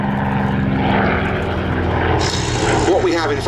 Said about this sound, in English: Hawker Fury biplane in the world, but the sole surviving Fury biplane in the world also.